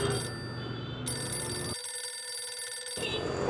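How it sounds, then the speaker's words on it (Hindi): A telephone bell rings loudly in repeated bursts, with a short gap in the middle where only its high ring remains. "घंटी बज रही है"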